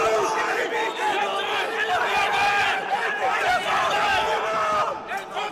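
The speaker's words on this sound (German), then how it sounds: "Das Publikum rastet komplett aus" A crowd roars and cheers wildly at a King of the Streets fight event, with dense shouting and babble from many voices, loud and sustained throughout.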